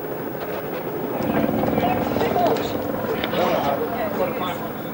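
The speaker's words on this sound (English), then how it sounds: "The helicopter guides him to the exact spot." A police helicopter hovers overhead during a night pursuit of car thieves, a steady, fairly loud rotor drone with radio chatter and voices talking over it.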